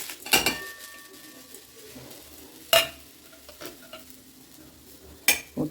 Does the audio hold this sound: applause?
no